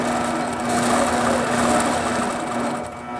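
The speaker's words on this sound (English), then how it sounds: "now you can see a very rapid stitch activated at the same time as I'm moving" A quilting machine at full sensitivity runs a very rapid stitch while the fabric is moved, producing a steady high motor whine with a fine, fast mechanical chatter, close and continuous.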